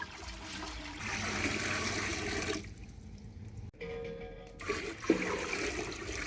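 Water pours steadily into a cooking pot for boiling, a rushing broadband splash that briefly cuts out, then resumes with a changing pitch as the vessel fills.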